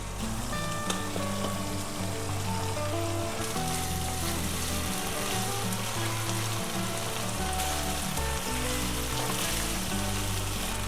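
Pointed gourds (potol) hiss and sizzle in hot spiced oil in a pan, a dense, continuous crackle with scattered pops and faint clinks, no talking.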